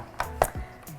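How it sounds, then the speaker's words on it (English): Onions being chopped with a kitchen chopper gadget: a few quick, sharp clacks about a fifth of a second apart, close and clear with no talking. "there's not all that crying when it comes to chopping the onions"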